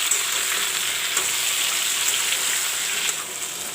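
Pieces of red pumpkin fry in oil in a pan, giving a steady, bright hiss of sizzling that holds evenly and eases slightly near the end, with no voices.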